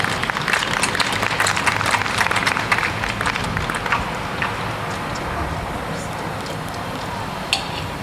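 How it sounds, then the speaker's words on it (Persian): A rally crowd applauds to welcome a speaker, a dense, steady wash of clapping that is strongest early and thins slightly toward the end, with a few sharper claps standing out. "لطفاً تشویقشان کنین."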